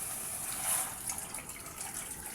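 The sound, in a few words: pouring hot water into pot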